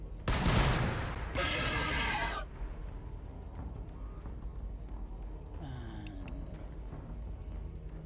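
Loud bursts of gunfire in the Warhammer 40000 Battlesector strategy game come in two quick volleys at the start, then fade to a low battlefield rumble with faint scattered effects.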